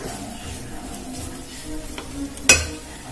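A snack mixture with salt is stirred in a pan with a soft, continuous scraping and low sizzle, ending in one sharp clink of utensil against metal near the end.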